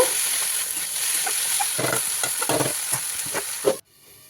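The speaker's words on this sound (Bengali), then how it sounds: "গেঁড়িটা একটু কষে নিয়ে তারপরে এই যে আলু বেগুনটা দিয়ে কষিয়ে নিচ্ছি" Snails with potato and eggplant being sautéed in a hot pan, with a loud, constant sizzle and bursts of spatula stirring that cut off abruptly near the end.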